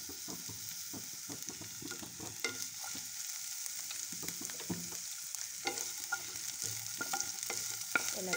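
Chopped onion, cumin seeds, ginger and garlic fry in a pan for a Nepali-style matar paneer, with a steady hiss of sizzling oil and frequent scraping, stirring clatters of a spoon against the pan.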